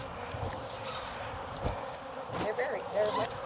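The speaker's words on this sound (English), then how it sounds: "It's going to be a buzzy ride home for a lot of bees" Honeybees buzz while their hive is being relocated in Jacksonville, Florida, a close, continuous droning hum with individual bees swelling louder as they pass near.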